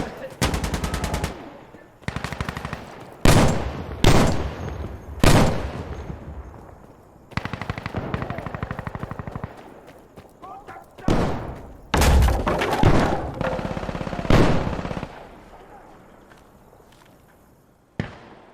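Rapid automatic gunfire and heavy blasts from an artillery barrage in the video game Insurgency: Sandstorm ring out in loud, repeated bursts separated by short pauses, with a voice briefly heard.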